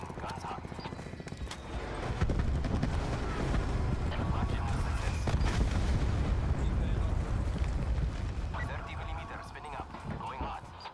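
Aircraft gun strafing run in a video game: rapid booming bursts and rumbling impacts building into a dense, loud barrage that rolls on for several seconds before easing off, with no voices heard.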